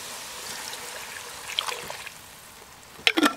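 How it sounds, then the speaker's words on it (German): Roast stock pours from a jar into a Dutch oven, a soft trickling stream of liquid followed by a few brief clinks and splashes at the end. "es kommt der Bratenfond hinzu"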